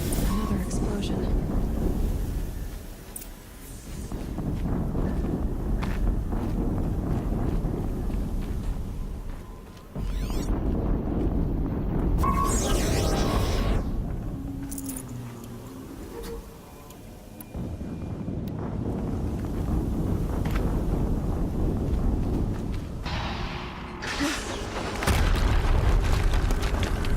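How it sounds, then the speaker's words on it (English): Deep, rumbling booms from explosions in the PS4 action game Horizon Zero Dawn swell and fade several times, heavy and loud, with a voice talking over the game sound. "Another explosion."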